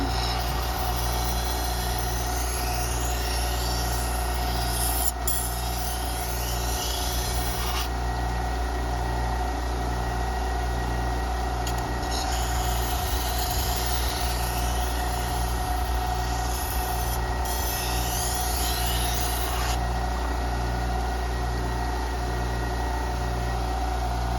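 A wet stone sharpening machine grinding a blade: a steady, continuous grinding rasp with a low motor hum underneath, sustained and even throughout with no talking.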